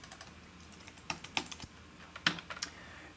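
Rapid keystrokes on a computer keyboard while labeling a track in a recording session, a few scattered clicks then a quick burst of taps, close and fairly quiet with no talking.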